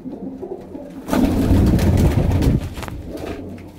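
Pigeons being sold in Punjab's Malwa region coo together in a loud, steady burst that swells midway and then eases, with no talk over it.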